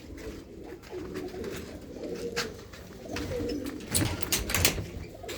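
Desi pigeons in a loft coo in soft, repeated low throaty calls close by, with wing flutters and scuffling bursts mixed in.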